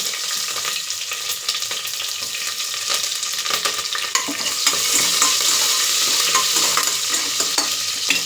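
Peanuts, curry leaves and onion fry in a pan with cumin and mustard seeds for hotel-style pudina rice, giving a steady, close sizzle with stirring scrapes throughout.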